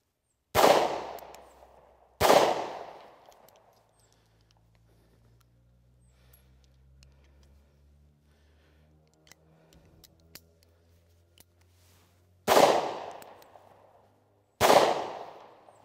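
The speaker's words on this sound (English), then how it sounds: "I'm going to try shooting this two rounds, reload it, and then two more follow-ups." Bond Arms derringer fires two sharp, loud shots about a second and a half apart, then quiet clicks and metallic handling during a reload, followed by two more close reports.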